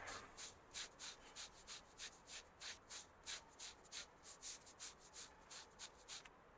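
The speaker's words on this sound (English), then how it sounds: "Basically just taking like very fine sandpaper to it, smoothing it out" Fine sandpaper smoothing a car body in Car Dealer Simulator, a steady series of about twenty soft rhythmic rasping strokes, evenly spaced and close, quiet with no talk over it.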